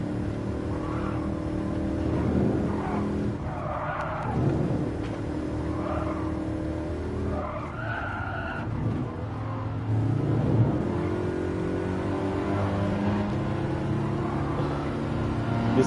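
A racing car in Drive Club revs and accelerates, its engine note climbing and dropping through gear changes. Tires squeal at moments, and the sound stays loud and close throughout.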